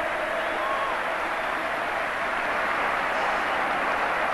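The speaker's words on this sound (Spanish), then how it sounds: "Él responde con goles y aplausos la ovación que recibe Villanueva por parte del público" Stadium crowd at an Argentine football match between Racing and Quilmes, a dense, steady roar of applause and cheering for a goal, continuous and broad throughout with a commentator's voice under it.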